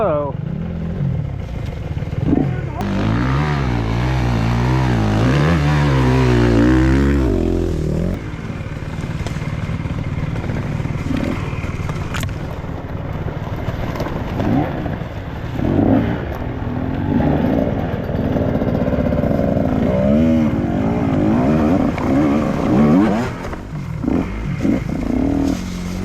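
Dirt bike engines rumble and rev while riding through a rocky creek in the woods, with loud close passes and clattering of rocks and water, and people talking over the engine noise.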